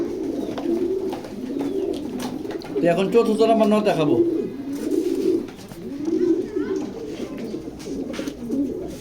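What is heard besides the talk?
pigeons cooing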